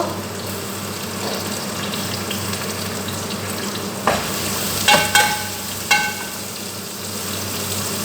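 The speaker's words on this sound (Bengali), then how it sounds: "তেলটা আমার গরম হয়ে গেছে, এখন দিয়ে দিব আমি রসুন কুচি আর দিয়ে দিব পেঁয়াজ কুচি" Chopped garlic and onion sizzle in hot oil at the start of a dried-fish and coconut curry, a dense, steady frying hiss with a few sharp clicks of stirring toward the end.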